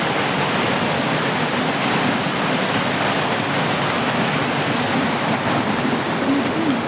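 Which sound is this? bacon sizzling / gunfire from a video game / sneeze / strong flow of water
strong flow of water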